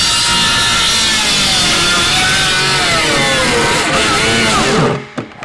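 A power saw cuts through lumber for a raised garden bed, its loud, close whine holding steady for about five seconds before the cut finishes and the motor abruptly winds down.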